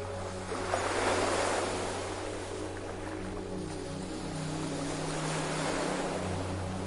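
Ocean surf rolls onto a sandy beach in a broad, soft wash that swells and recedes, with a low steady hum underneath and no voices.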